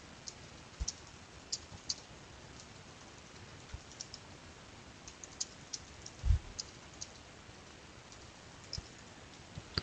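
Faint, sparse clicks of someone typing on a computer keyboard, with scattered single keystrokes and a slightly louder tap midway over a quiet background.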